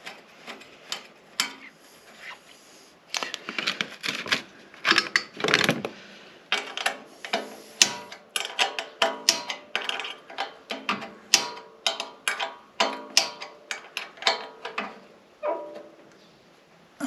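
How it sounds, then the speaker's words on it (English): A ratchet drives a bolt back into the bottom of a Ryobi 4500 generator, giving quick bursts of close metallic clicking that speed up and keep going in irregular runs, with no one talking. "We need to put one more bolt back into the bottom down here."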